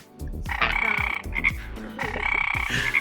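A frog croaks in loud, close, rapid bursts, two long trilling runs separated by a brief pause, with no voices present.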